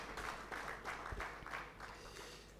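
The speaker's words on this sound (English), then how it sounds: "Another very big hand clap for that spirited presentation." An audience at a livestock census results programme gives brief applause for a presentation, a faint, even patter of clapping that fades slightly toward the end.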